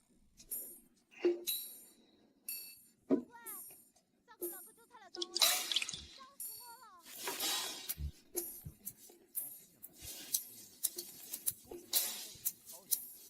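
Water dripping and trickling while ink is being prepared, with clear drops, small clinks and splashes spaced irregularly, close and quiet.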